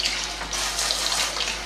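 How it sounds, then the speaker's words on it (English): Water is sprinkled over a Fire Talon multi tool, giving a steady, close hiss and splash of running water that carries on for the whole moment. "simulate that I'm using this in the rain by just sprinkling a little bit of water on it"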